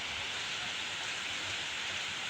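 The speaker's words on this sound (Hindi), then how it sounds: "बारिश तेज चालू हो गई है" Heavy rain pouring down steadily outdoors under dark clouds, a dense, loud, continuous hiss with no breaks and no voices.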